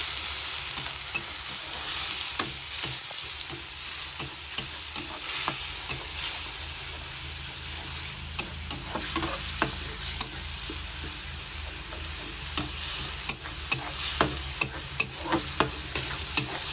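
Onions frying and being stirred with masala in a pan for a prawn curry, a steady sizzle broken by repeated scraping stirs of the spoon, close and continuous with no talk.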